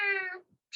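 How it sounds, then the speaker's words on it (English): A large house cat gives a single loud, close meow with a clear, tonal pitch, cut off abruptly, followed by a short silence. "that's a big ass cat."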